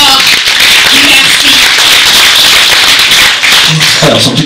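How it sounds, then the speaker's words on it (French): An audience applauds an actor at the film premiere of Corrie Le Seigneur, with loud, continuous dense clapping close to the microphone and voices mixed in. "On l'applaudit, mesdames et messieurs"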